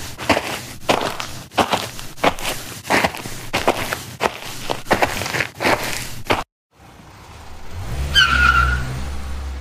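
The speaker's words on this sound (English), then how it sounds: "Now, let's get in the car and head to Ben Tennyson and Albert Determination's mansion." A run of footsteps gives way, after a short silence, to a car engine revving up with a squealing tire tone as the vehicle drives off, loud and close near the end.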